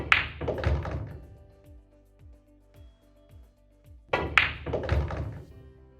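Cue ball clicking into pool balls on a billiard table, a few close, soft knocks and thuds in a quiet room, with short rolling taps between.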